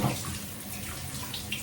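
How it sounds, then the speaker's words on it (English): Cold shower water running steadily in a bathroom, a soft continuous splashing wash that stays close and even throughout with no voices. "We're going to get into a freezing cold shower."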